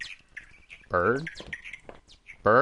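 Bird chirps in the game Home by Benjamin Rivers, a few short bright calls at moderate level mixed with other game sounds, with a loud harmonic burst near the middle and at the end.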